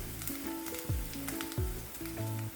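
Garlic and crushed ginger sauté in hot oil in a pan, a steady close sizzle with repeated scrapes and stirring knocks throughout.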